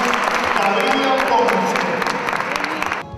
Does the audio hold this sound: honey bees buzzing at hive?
no